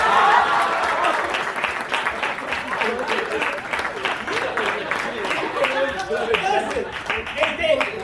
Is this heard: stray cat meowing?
no